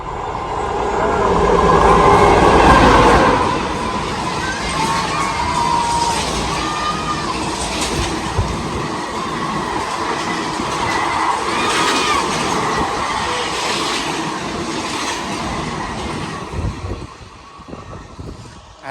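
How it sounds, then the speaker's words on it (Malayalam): A passenger train runs past nearby, a loud sustained rumble and clatter of wagons that swells early on and then carries on steadily before fading, with shouting and crowd noise mixed in. "ഒരു ട്രെയിൻ ഇതാ വരുന്ന അവിടെ നിന്ന് മംഗല സ്റ്റേഷനിലേക്ക് ഇവിടെ പാസ് ചെയ്തുകൊണ്ട്"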